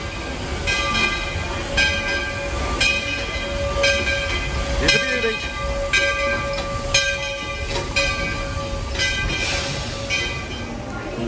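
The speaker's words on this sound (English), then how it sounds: "First train of the day." The first train of the day at Magic Kingdom idles and hisses at the station, with steady rhythmic chuffing, a sustained whistle-like tone and a sharper burst midway, while a person speaks briefly nearby.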